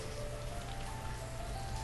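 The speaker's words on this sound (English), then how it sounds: "It's currently raining and I have it paused" Rain falls in the city-building game Banished, a faint, even hiss of patter with soft drops, steady and without talk.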